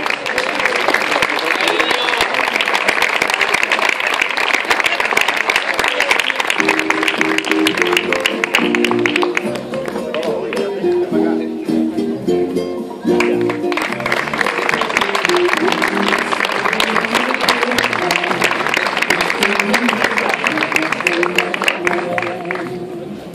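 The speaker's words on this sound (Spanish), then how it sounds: "El aplauso para Julián Moreno Díaz y toda su familia" An audience at a tribute event in a Gran Canaria bar applauds with loud, sustained clapping throughout, a dense crackle that dips briefly midway while a voice speaks over it.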